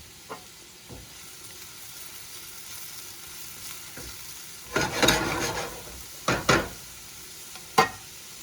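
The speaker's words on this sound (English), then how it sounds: "listen for that sizzle in there" Soft steady sizzling of chicken frying in a pan, with a few louder crackling bursts and clinks of stirring, no voices.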